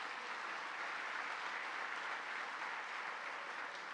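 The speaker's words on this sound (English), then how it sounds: "Let's give them a round of applause." A room full of people applauds steadily at a civic gathering in New York City, a fairly faint, even wash of clapping heard from some distance with no speech.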